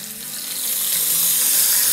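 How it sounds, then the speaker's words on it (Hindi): Grated onion sizzles and fries steadily in hot oil with garlic and ginger paste, a dense continuous crackle that swells slightly louder, close and alone with no talk. "इसे हम एक डेढ़ मिनट के आसपास भूनेंगे, जब तक के डांसिंग शो थोड़ा कॉम डाउन ना हो जाए।"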